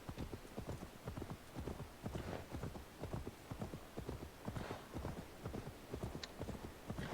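A horse's hooves clip-clop in a steady, fast rhythm while riding in the video game Assassin's Creed Valhalla. The repeated hoofbeats are close and dominant throughout, with no talking over them.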